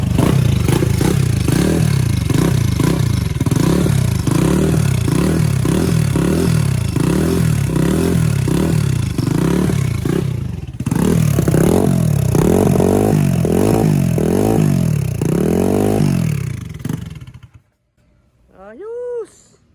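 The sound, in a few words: Raider motorcycle engine first start with Turbo 44mm carburetor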